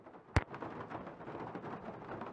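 Thunder crack from a lightning strike in a video game, a sharp loud boom near the start followed by a low rumbling wash of rain-like noise that carries on steadily to the end.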